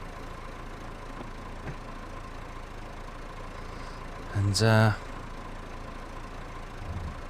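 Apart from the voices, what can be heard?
tractor ploughing in Farming Simulator 22 video game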